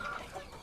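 KUB chickens and guinea fowl on a farm give a brief burst of soft, close clucking over a low hum of background noise.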